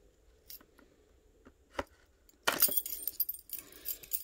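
Car keys jangle and scrape against packing tape on a box: a few light clinks at first, then a loud burst of rattling and sawing as the tape is cut.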